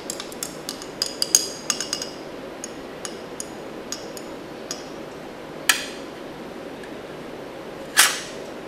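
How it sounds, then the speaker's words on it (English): A glass stirring rod clinks against a glass container of salt solution during a DNA extraction, a series of small, sharp taps at an irregular pace, with a couple of louder clinks, alone in a quiet room. "Now, I want to stir a little bit carefully to avoid making too much foam."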